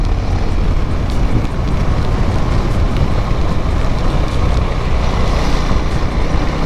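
Strong wind roars across a rider on a KTM Duke 390 during a rainy ride in Chennai, a loud, constant buffeting rush close to the camera with rain and road noise beneath and no voices.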